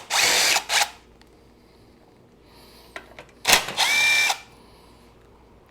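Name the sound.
power tool removing bolts from Kubota L2201 tractor shroud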